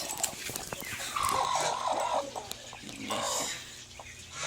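Broiler chickens in a chicken house cluck and squawk in a busy mix, with a rooster-like call rising in the middle, close and fairly loud, with no talking.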